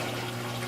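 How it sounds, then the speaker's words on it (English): Washing machine inside an RV drawing in water, a steady rushing flow with a low constant hum beneath, unbroken across a very short moment. "It's pulling in water."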